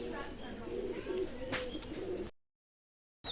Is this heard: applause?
no